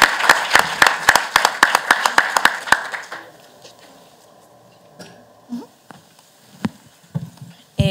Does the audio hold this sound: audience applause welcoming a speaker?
yes